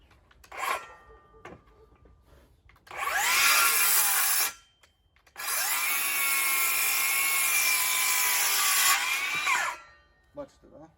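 A DeWalt DCS573 cordless circular saw on a fully charged 2 Ah battery runs in two loud, sustained whirring bursts with a brief pause between, spinning up and winding down each time.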